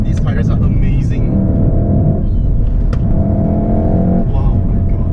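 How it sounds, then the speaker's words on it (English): Volkswagen Golf R with a 2-liter engine accelerating hard, a loud steady engine roar with rising harmonic tones close by, with people talking over it. "This car is mad. The engine is just so strong. It's hard to believe it's from a 2-liter."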